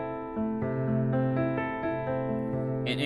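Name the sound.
piano playing 6 minor chord over the 1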